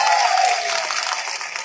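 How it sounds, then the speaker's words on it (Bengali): A crowd at a public event claps for the officer-in-charge of a police station, a dense burst of applause that holds briefly and starts to taper. "ভারপ্রাপ্ত অফিসারের জন্য একটা জোরদার হাততালি হোক"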